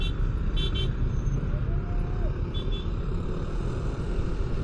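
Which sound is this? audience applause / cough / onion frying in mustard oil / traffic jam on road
traffic jam on road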